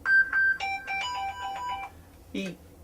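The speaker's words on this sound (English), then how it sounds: "No, it's ringing. It's ringing. It's ringing." A telephone rings in a few bursts of electronic ringtone, loud and close, with a voice speaking over and around it.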